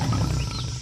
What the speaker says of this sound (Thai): จู่ๆก็มีเสียงกิ่งไม้หักดังก้องมาแต่ไกลพร้อมกับเสียงร้องคำรามดังขึ้น